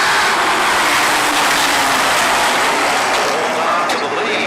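Limited late model race cars roar past at Stafford Speedway, a loud continuous wall of engine noise that holds steady for the whole stretch as the pack thunders off the final turn.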